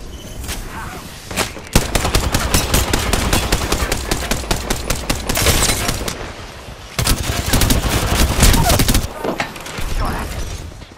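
Rapid automatic gunfire in the shooter game Apex Legends, several long, loud bursts of fast, closely spaced shots broken by brief pauses, with a player's voice talking over the shooting at times.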